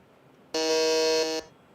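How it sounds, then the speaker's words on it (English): A single electronic quiz buzzer at a junior quiz semi-final sounds once, a bright, steady tone lasting just under a second against a quiet background. "Go ahead, Ishwar on the buzzer."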